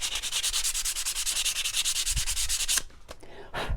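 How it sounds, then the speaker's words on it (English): Wooden tree-trunk piece being sanded by hand along the grain, a close, steady rasping rub in quick even back-and-forth strokes for nearly three seconds, then a pause and a couple of shorter final strokes. "So I'm just going to take it and sand up and down, because that's the way my wood grain of my tree trunk is going."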